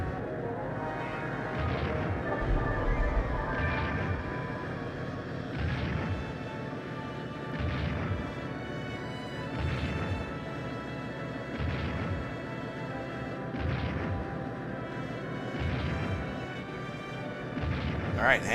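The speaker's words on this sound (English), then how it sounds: "we'll definitely have enough to fire the harpoon cannon at him" A harpoon cannon fires during an airship battle in the video game Skies of Arcadia Legends: a series of heavy, booming blasts repeats about every two seconds over a continuous rumbling game soundtrack.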